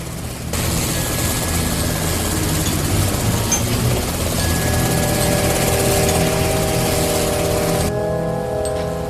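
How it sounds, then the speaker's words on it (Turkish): A helicopter roars loudly and steadily over a valley, rotor and engine noise filling the whole clip, with a whining tone rising as it passes close overhead. "Kim bizi helikopterden takip ediyor?"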